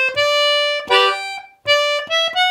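Concertina notes and a short chord on a long high G in a hornpipe tune, reedy and bright, played in detached bursts with brief gaps, close and solo.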